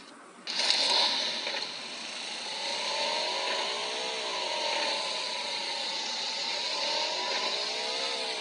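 A motorbike engine in the PUBG Mobile video game starts abruptly, then holds a steady revving drone with wavering pitch, loud and close, with no talk over it.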